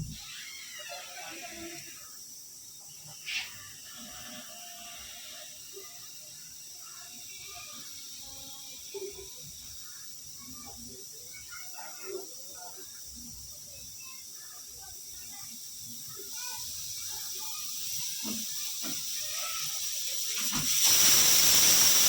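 A person talks over a quiet kitchen background while cooking guar beans, then a pressure cooker releases a loud, rising hiss of steam near the end.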